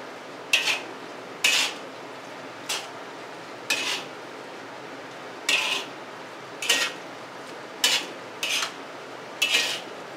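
Spoon knocking against a pan while stirring tomato sauce for spaghetti, giving about nine short, sharp clinks at uneven intervals over a quiet kitchen background.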